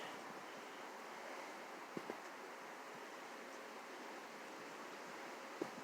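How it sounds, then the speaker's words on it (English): Wind blows steadily outdoors, a constant broadband rush with buffeting against the microphone and a couple of faint thumps, with no voices. "it's windy out here today"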